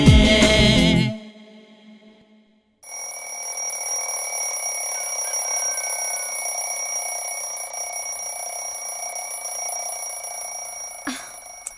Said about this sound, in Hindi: सुनिए जी, सुनिए ना, सुनिए जी, अलार्म बज रहा, उठिए ना।